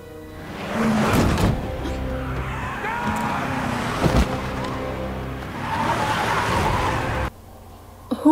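A car screeches and skids with loud tire squeal and engine noise in a TV drama scene where a man is struck, sustained and close, then cutting off abruptly near the end.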